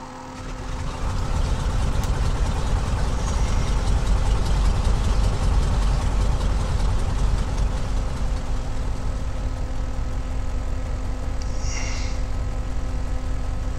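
A light aircraft engine starts and settles into a steady, loud idle, a continuous low rumble with a constant hum that holds throughout.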